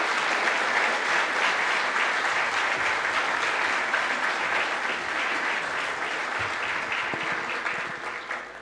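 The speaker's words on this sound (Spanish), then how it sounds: "Un aplauso más grande para el ministro." Sustained applause from an event audience for a minister at an economic forum, a dense steady wash of many hands clapping at full strength that eases slightly toward the end, with no voices over it.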